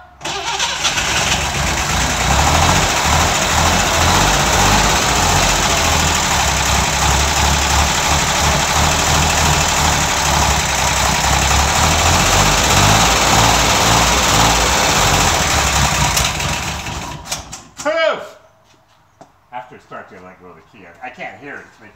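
A Chevrolet Corvair engine is cranked on a cold start and catches, running loud and close with a rough, steady roar for about seventeen seconds before cutting off; voices are heard around it.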